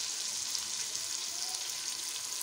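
Chicken pieces with salt fry in a pan for a chicken and potato curry, giving a steady, close, even sizzle with no talk.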